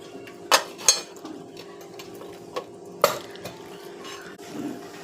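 Mustard seeds and cumin frying in hot oil in a kitchen pan for a South Indian beans sabji, heard as a few sharp pops and crackles over a low steady sizzle, close up and fairly quiet.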